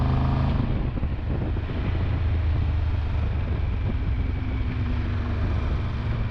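A Triumph Tiger 1200 Rally motorcycle's exhaust drones steadily while riding through the Alps, a loud close rumble mixed with heavy wind noise, with no voices.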